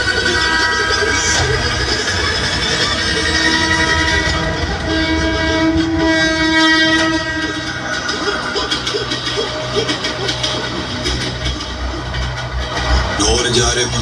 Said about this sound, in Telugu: ట్రైన్ వస్తుంది, బాయ్.